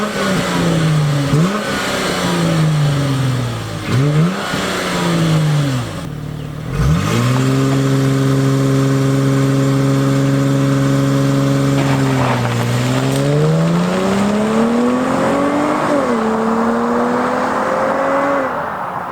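A 2018 Dodge Charger GT AWD revs and accelerates through rising gear pulls, its engine tone climbing, dropping at a shift, then holding a steady loud drone, close and without talk.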